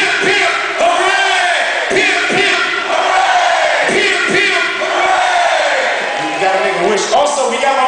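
A large crowd at a 2007 concert in Dublin roars, cheers and shouts continuously and loudly, with voices yelling over the din.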